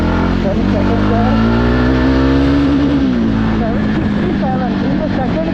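A Java Bobber 42 motorcycle pulls hard in second gear, its engine note climbing and then easing, loud and close with steady wind roar throughout.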